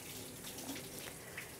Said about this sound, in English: when the water is warm, wet your hands and your arms